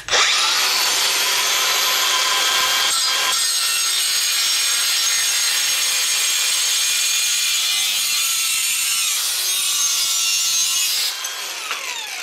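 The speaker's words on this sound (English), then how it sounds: "we'll just go ahead and we'll angle grind this off" Angle grinder cutting through part of an alloy fuel tank for a kit car, a loud continuous high-pitched grinding whine for about eleven seconds with a brief dip partway, then stopping.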